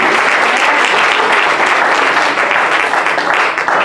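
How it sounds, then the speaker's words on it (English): A church congregation claps in steady, dense applause, loud and close, filling the space without a break from start to finish. "Y'all should be clapping."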